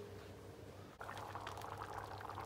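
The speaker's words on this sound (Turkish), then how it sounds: "Pastırmayla beraber bir 5 dakika kaynatacağım." Bean stew with pastırma bubbling in a lidded pot, a steady close simmering hiss that swells into a livelier, rougher boil partway through, with no voices.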